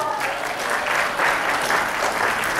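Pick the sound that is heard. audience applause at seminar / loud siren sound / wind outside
audience applause at seminar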